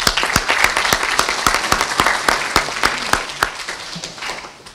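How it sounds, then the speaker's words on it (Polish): Audience applause at a panel gathering, a full burst of clapping from a crowd that holds steady and then tapers off at the end. "za co Jacku wielkie brawa."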